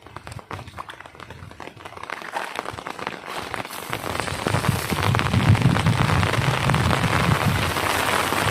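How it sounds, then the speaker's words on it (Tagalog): Steady rain patters on a surface, building from scattered taps to a heavier, continuous downpour. "Andyan na ulan."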